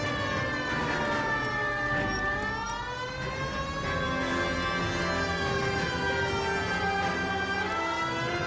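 Police car siren in the video game L.A. Noire wails continuously with rising and falling tones, loud and close for the whole stretch, with no talk over it.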